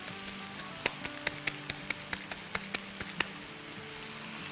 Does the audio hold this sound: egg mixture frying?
yes